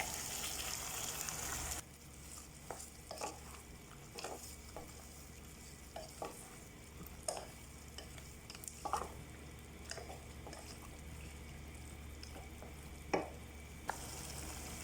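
Chicken pieces fry in a pan for Afghani chicken curry. A soft, even sizzle continues under scattered light stirring clicks and scrapes, with a brief louder burst at the start.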